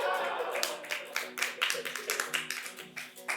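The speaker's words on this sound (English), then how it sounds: "this is an applause break" Applause from a live comedy show audience fades out in a series of scattered claps that thin and quieten over a few seconds.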